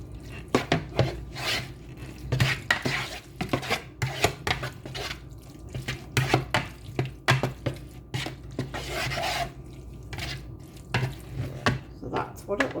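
Nacho cheese sauce being stirred into a soft taco bake filling, repeated scraping and thick squelching strokes of a spoon in a pan, close and uneven in rhythm.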